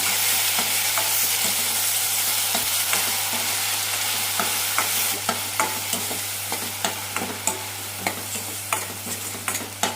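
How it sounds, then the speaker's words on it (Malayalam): A ground coconut and onion paste, added after mustard seeds have popped, fries in a pan for soya keema gravy. It sizzles loudly and continuously under steady, rhythmic scraping stirs of a spoon, with no voices. "കടുക് പൊട്ടിയാൽ അരച്ചു വെച്ച പേസ്റ്റ് ഇടാം നന്നായി വഴറ്റാം"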